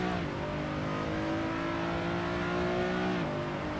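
A steady, droning racing car engine in the Assetto Corsa racing simulator holds a high rev, with gear-shift dips at the start and end, loud and continuous with no voices.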